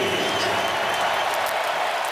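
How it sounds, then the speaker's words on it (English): Steady roar of a large crowd cheering and applauding at University of Phoenix Stadium during a Pro Bowl football game, a dense continuous wash of noise with no break. "Which brings a cheer from this crowd here at University of Phoenix Stadium"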